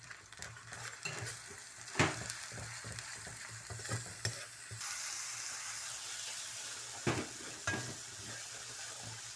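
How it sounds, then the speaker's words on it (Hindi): Chicken, about 500 grams, frying in a pan with garlic and spices for a lemon chicken masala, sizzling steadily while a utensil stirs and scrapes with irregular clinks, close and moderately quiet, no talking. "अच्छा ये मैं चिकन डाल दी। ठीक है, अब इसको थोड़ा भून के चिकन को फिर टमाटर प्यूरी डालूंगी।"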